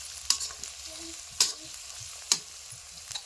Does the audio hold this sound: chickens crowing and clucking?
no